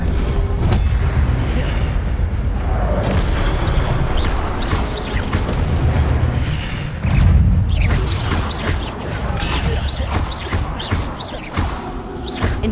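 Incendio fire spell cast repeatedly in Hogwarts Legacy on PS5, heard as heavy booming blasts and crashing impacts layered over a busy, loud game soundscape with shouted spell calls around it.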